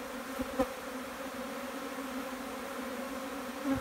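Honey bees swarm around skimmed brood frames and nucs in an apiary yard, drawn to fresh nectar; a steady, close droning buzz continues throughout with no voices.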